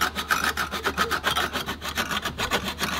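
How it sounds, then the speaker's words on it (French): Rapid back-and-forth strokes of a long saw blade rasp through wood in a quick, steady rhythm, close and fairly quiet. "il faut absolument une lame de scie longue"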